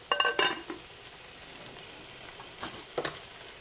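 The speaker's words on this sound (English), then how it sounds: "Now we're just going to cook this enough to where the onions and the asparagus are tender." Onions and asparagus cook in a pan, a soft steady sizzle with a few brief utensil scrapes and clinks near the start and again toward the end.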